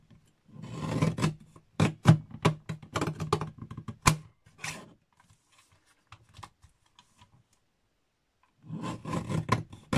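A paper trimmer blade is run along cardstock during birthday card-making with Stampin' Up! supplies, giving close, dry rasping and scraping strokes in quick bursts, then a quiet pause before another run of cutting sounds.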